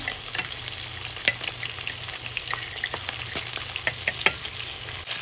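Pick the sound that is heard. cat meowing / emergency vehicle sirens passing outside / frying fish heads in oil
frying fish heads in oil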